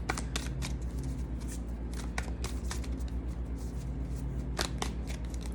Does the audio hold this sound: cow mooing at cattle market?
no